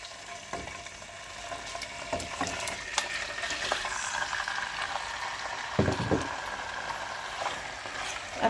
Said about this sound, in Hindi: अब चिकन डाल के इसको हाई फ्लेम पे भूनना है